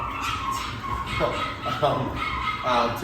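Several dogs bark, yip and whimper in overlapping high cries against a steady noisy background, close and moderately loud, in a space being upgraded with a feeding station for them.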